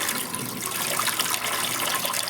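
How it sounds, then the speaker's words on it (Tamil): A low-budget pipe fed by a switched motor pump sends water gushing forcefully into a washbasin, a steady, loud, close rushing splash with no one talking. "நல்லா தண்ணி ஃபோர்ஸாக வரும்."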